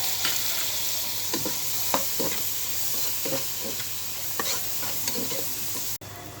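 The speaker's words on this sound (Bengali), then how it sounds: "গাজর বরবটি পাতাকপি দিয়ে সবজিটা ভাজে দেবো" Close-up sizzling as carrots, long beans and cabbage stir-fry in a hot pan, with repeated scraping and stirring strokes at an uneven rhythm, the hiss steady throughout.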